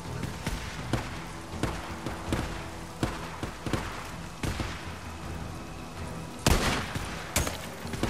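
Gunfire in the PS4 video game Days Gone rings out in sharp bursts, some rapid and overlapping, with two louder blasts near the end over a busy background.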